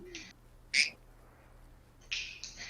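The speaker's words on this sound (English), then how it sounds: "How many of my bird squawks are being picked up, by the way?" A pet bird squawks indoors in a few short, sharp, high calls, one near the start, one sharper at under a second and a longer rasping pair near the end, faint and otherwise quiet in the room.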